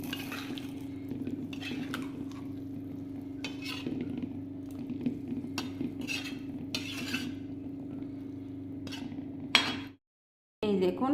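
A spoon stirring kadi pakoda mixture in a pot, repeated scraping and clinking strokes at an irregular pace over a steady low kitchen hum, ending in brief silence.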